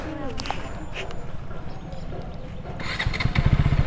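A motorcycle engine starting and idling on a street, with a rough low rumble that grows louder and more rhythmic toward the end, under steady conversation.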